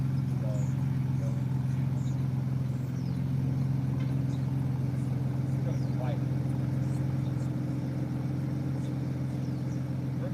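A Ford Bronco Raptor engine idles after startup with a steady low drone and exhaust rumble, constant throughout, with faint light noises above it.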